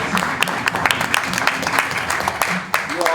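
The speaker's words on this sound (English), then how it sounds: "one more round of applause" Audience at an entrepreneurship pitch night breaking into a round of applause: steady, dense clapping from a crowd of moderate size, close and continuous, with faint talk and cheers mixed in.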